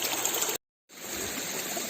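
Irrigation water flows through an unlined earthen channel toward fields of organic cabbage and peas. It makes a steady, close trickling rush that cuts out briefly near the start, then resumes.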